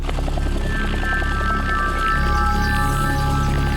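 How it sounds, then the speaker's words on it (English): Two blacked-out military helicopters on an urban assault operation fly close by, a loud continuous rotor and engine roar with a steady whine, no voices. "2 blacked-out helicopters take the new troopers on their first urban assault operation."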